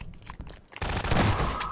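Gunfire in the video game Half-Life 2 erupts as a dense, loud burst of rapid shots after a brief scattered opening, close and harsh, with no talking over it.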